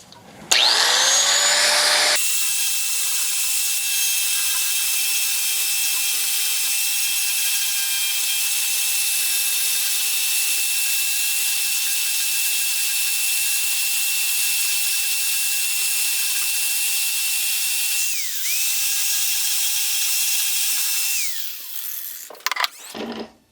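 An Arbortech power carver grinds into a carved wooden shrink pot with a loud, constant high whine and rasp that runs for about twenty seconds, dips briefly once, then spins down near the end.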